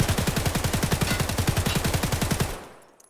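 An SA-58 rifle in Escape from Tarkov firing full-auto, a long rapid burst of evenly spaced loud shots lasting about two and a half seconds, then cutting off into a brief fading tail.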